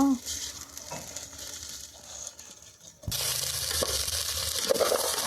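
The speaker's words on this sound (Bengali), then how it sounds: "এগুলোকে ভাজা হয়ে গেছে আমার এগুলো এবার এর মধ্যে আমি চালটা দিয়ে দেব" Sizzling and frying in a pan, with a sharp louder burst as rice is added to fried ingredients partway through, followed by steady crackling and stirring.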